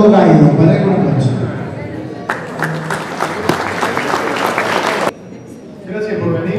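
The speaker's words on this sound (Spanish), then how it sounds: "Para él, un aplauso." Audience applause for a hotel chain's general director at a gala evening at the Gran Hotel Victoria, a burst of clapping swelling after a spoken introduction and running several seconds before cutting off, with voices heard before and after.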